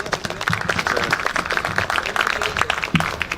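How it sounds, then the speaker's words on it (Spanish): Audience applause welcoming a speaker at an engineering talk, a brief burst of steady, crowded clapping close by, with faint murmurs underneath. "Lo recibimos con un fuerte aplauso"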